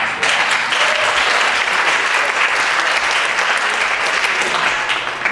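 A room full of people at a live a cappella concert claps steadily and loudly, dense applause holding at the same level throughout.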